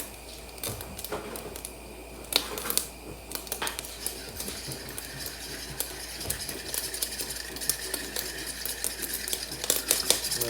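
A seasoning mixture with onion powder is whisked steadily in a bowl, giving a busy, continuous clatter of rapid metallic scraping and tapping, close and fairly loud, with no talking.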